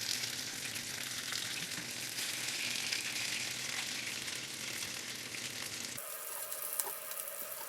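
Chicken pakora fries in a pan over a low flame, a steady, dense sizzle and crackle of hot oil continuing throughout, close and fairly quiet, with no talking.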